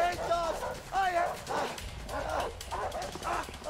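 Dogs barking and yipping while chasing, repeated excited barks with whimpers, mixed with frantic shouting voices over the pursuit.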